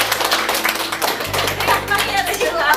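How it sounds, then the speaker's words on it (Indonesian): Brisk, dense hand clapping from an audience at a secretary and personal assistant training session, steady and fairly loud throughout, with a low hum underneath and some voices mixed in. "Oke, tepuk tangan buat kita semua."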